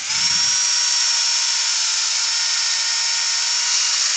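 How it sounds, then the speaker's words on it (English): A drill-driven power sander with 120-grit sands a small laburnum wood bowl, running continuously at close range, a steady high-pitched whirring grind with a faint low thump at the start. "So I'll get the drill out and the power sanding."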